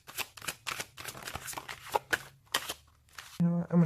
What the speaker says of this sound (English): So let's pull some cards for spiritual space this month.